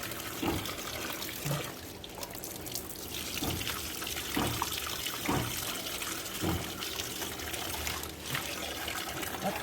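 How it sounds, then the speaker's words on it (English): Tap water runs and splashes as wet acrylic paint is rinsed off a gel printing tool, with a continuous flow broken by intermittent knocks and clatters against the sink, close and fairly loud. "As long as the acrylic is still wet, I can wash."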